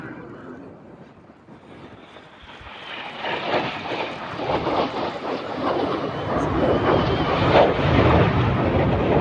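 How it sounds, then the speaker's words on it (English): Red Arrows jet aircraft at an air display, their loud continuous roar swelling steadily as the formation passes, with no voices over it. "Each aircraft now turning hard away from each other, turning the boomerang into the slingshot."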